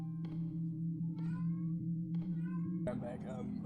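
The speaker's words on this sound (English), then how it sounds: "Of course my cat has to start making noise as soon as I start recording." A house cat meows four times in close succession, each call a short rising-falling cry, heard indoors over a steady low hum.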